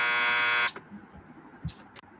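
A door buzzer in the video game Max Payne gives one loud, steady electric buzz lasting under a second, cuts off sharply, and leaves a quiet room tone with a few faint clicks and knocks.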